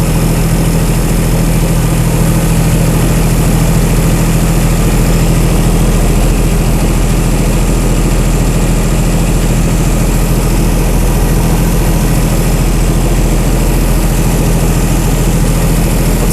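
Chrysler Slant 6 generator engine idling while it warms up, a loud, steady low rumble with a constant drone and no pauses throughout.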